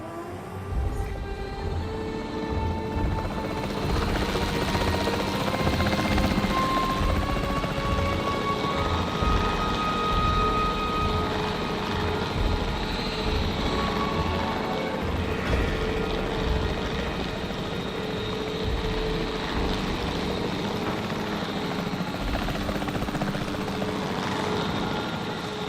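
A capture team helicopter in a video game flies continuously, its rotor and engine drone steady and loud throughout, with a constant whine above the low throbbing chop.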